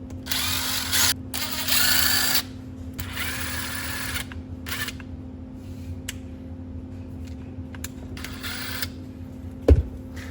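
A power driver whirs in short bursts as it backs screws out of the battery plate and motor mount on a TRX4M RC truck, several spurts of motor noise separated by quiet pauses, fairly close.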